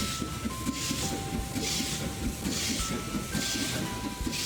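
A steam train engine in a train racing video game chugs and hisses over a dense rumbling backdrop, with brief whistle-like steady tones sliding across and puffs of steam pulsing along.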